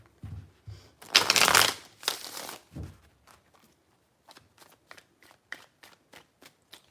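Tarot cards being shuffled by hand, a loud riffling burst followed by several shorter shuffles, then a string of light taps and card handling, close and without talk.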